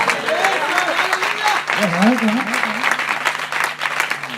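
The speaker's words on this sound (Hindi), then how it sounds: "क्लिंटन भाई के लिए जोरदार तालियां।" Loud, sustained applause from a church congregation during a gospel gathering, a dense crackle of clapping running throughout with a voice speaking over it.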